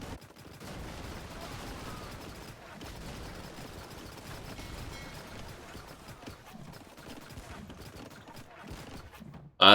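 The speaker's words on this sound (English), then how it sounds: "That is a lot of galleys and cannon galleons as well for Razor here" Naval battle between cannon galleons and galleys in a strategy video game, a dense continuous crackle of cannon fire and impacts at steady loudness with no talk.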